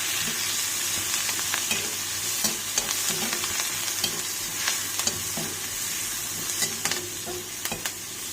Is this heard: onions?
yes